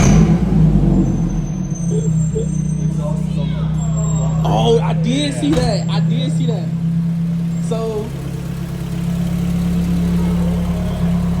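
A 2001 car with a custom side-exit exhaust idles at a Missouri car meet, a steady low rumble running throughout while people talk nearby over it.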